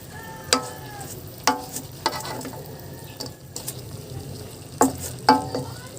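Tofu and bean sprouts stir-frying in a pan with oyster sauce, a soft continuous sizzle broken by sharp utensil scrapes and clinks against the pan at irregular intervals.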